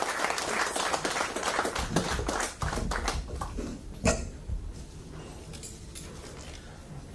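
An audience at a business conclave claps together, a dense patter of hands that thins out and fades after a few seconds, moderately distant in a large hall.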